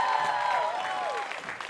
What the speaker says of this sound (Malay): sekali lagi berikan tepukan gemuruh untuk idola kecil anda